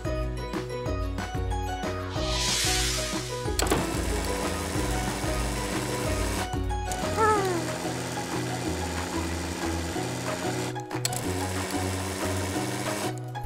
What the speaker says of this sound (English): We're going to carve planks of wood to make the sides of a sledge?